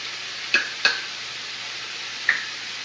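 Carrots, celery, onion, sun-dried tomato and garlic being stirred in a pot, three short scraping taps of a spoon over a steady sizzle.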